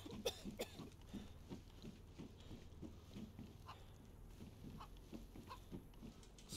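A chicken in the survival game DayZ clucks in a regular run of short, low, faint notes, steady and close, with no voices.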